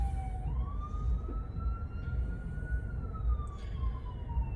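An ambulance siren passing near a hospital, a single smooth rising and falling wail at moderate distance over low traffic rumble, with no one speaking.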